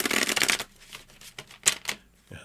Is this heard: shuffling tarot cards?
yes